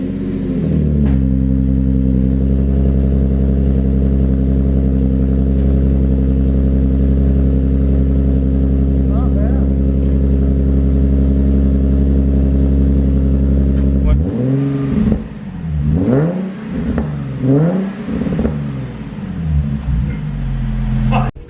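A Nissan 370Z fitted with a full Motordyne catback exhaust and titanium tips drones loudly at a steady high idle, then is revved several times in quick blips, close up and with no other sound over it.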